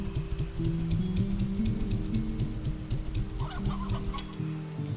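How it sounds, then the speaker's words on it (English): Chickens in the game Slime Rancher clucking steadily and close, a dense run of rapid, overlapping clucks and squawks from several birds filling the whole stretch. "We'll have to bring some more chickens next time."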